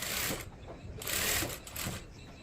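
A sewing machine stitching a patch-work paithani blouse neck, running in short bursts with pauses between, its rapid whirring buzz loud and close, no speech over it.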